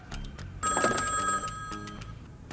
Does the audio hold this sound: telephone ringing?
yes